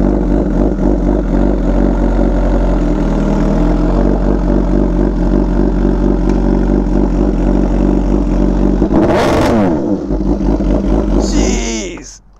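An MV Agusta motorcycle holds a steady, loud, high-revving exhaust drone during launch control, then surges in one sharp rising sweep, with a brief final rev before the sound drops away.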